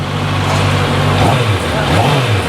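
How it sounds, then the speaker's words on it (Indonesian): A QJmotor four-cylinder motorcycle engine revs up from a steady idle, its low drone rising in two throttle blips that swell and fall back, loud and close, with a voice briefly heard. "Tapi coba kalau kita gas."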